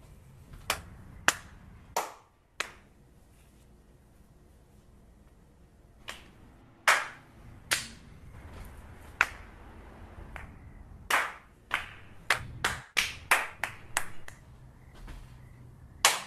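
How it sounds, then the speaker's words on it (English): Hands clap one at a time in a series of different places, sharp isolated cracks spread irregularly and then bunching into a quicker cluster near the end, each ringing out briefly. "What would it sound like if you clapped in as many different places as possible?"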